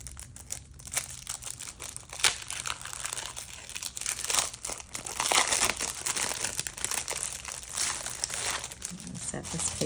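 The paper wrapping on a left-bound message notepad crinkles and tears as it is opened. The sounds come close and loud in bursts, with pauses between them, over the whole stretch.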